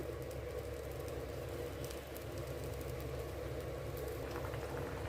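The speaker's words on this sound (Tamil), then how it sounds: "இப்போ இதை நல்லா கொதிக்கட்டும்" A low, steady bubbling simmer of a mango kootu curry in a pot carries on throughout, faint and even, with soft popping in the background.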